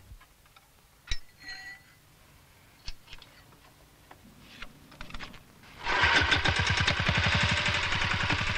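The engine of a simple mini traction power unit built for peasant farmers starts in a field after a few scattered knocks. It then runs with a loud, rapid, steady chugging.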